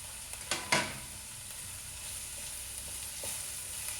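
Green chillies and coriander sizzling in a pan with meal maker, a soft steady fry with a few sharp clinks and scrapes of stirring near the start, fairly quiet and close, no talking.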